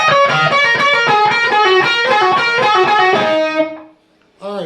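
A lick played on a distorted electric guitar, a fast run of loud, saturated picked notes that rings out and stops abruptly, followed by a brief snatch of sound.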